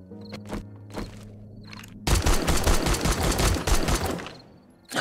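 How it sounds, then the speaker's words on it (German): Rapid bursts of gunfire in the video game 7 Days to Die, a loud sustained volley after a quieter stretch of scattered thuds and footsteps, fading out near the end. "Ich hab ihn erschossen."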